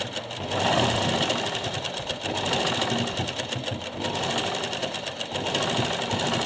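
A sewing machine stitches a summer dress for a Laddu Gopal idol, running steadily and close with a rapid mechanical clatter and no pauses.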